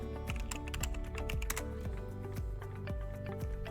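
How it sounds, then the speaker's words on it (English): Steady, rapid clatter of keys on a computer keyboard, close and continuous, with an irregular rhythm of individual keystrokes throughout. "type in YouTube"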